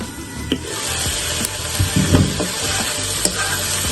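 Okra frying with tomatoes and onions in masala in a pan on low heat, a constant sizzle broken by a few stirring scrapes and knocks, close and fairly loud, no speech.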